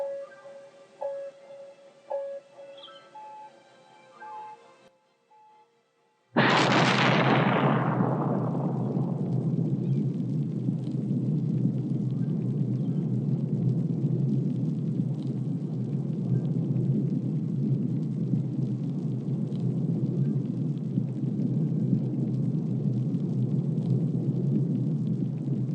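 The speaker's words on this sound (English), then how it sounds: "ride in the space launch, or the rocket launch at the Chirpex launch site" A rocket launch at the Chirpex launch site in Cities Skylines opens with a sudden burst into a loud, sustained low rumble that roars on steadily for about twenty seconds, preceded by a few seconds of soft game music, with no talk.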